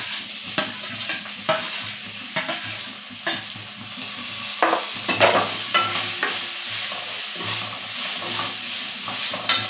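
Grated potato and green chilli stirred in a hot pan, a continuous sizzle broken by repeated scraping and clacking strokes of a spoon at close range, with no voices.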